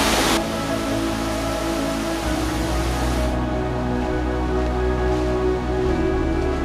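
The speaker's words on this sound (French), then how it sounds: "restez prudent en approchant de la cascade" The Cascade du Luc waterfall roars in a steady, loud, broadband rush of falling water that continues without a break and with no voices.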